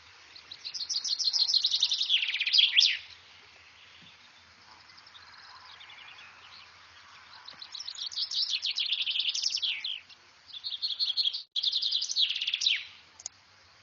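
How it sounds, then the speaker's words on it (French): A common chaffinch sings several bright descending trills with flourishes at the end, close and clear, separated by short pauses with faint background birds. "ça va être le chant de la même espèce finalement, du pinson des arbres"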